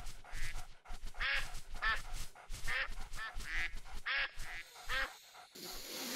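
A wood duck in the Duck Dynasty hunting video game calls in a string of rapid, repeated quacks and honking squawks, close and steady for several seconds, ending in a burst of noise.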